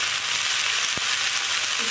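Chana dal fara with green coriander fry in a pan, giving a steady, bright sizzle up close, with one soft knock partway through and no voices.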